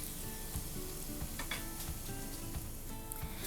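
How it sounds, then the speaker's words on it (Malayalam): Two tablespoons of crushed ginger and garlic sauté in hot oil in a pan for a chicken curry. A steady, close sizzle continues throughout, with light crackles and the soft scrape of stirring. "2 ടേബിൾ സ്പൂൺ ഇഞ്ചി വെളുത്തുള്ളി ചതച്ചത്. അതിൻ്റെ പച്ചമണം മാറുന്നവരെ നന്നായിട്ടൊന്ന് വഴറ്റി കൊടുക്കാം"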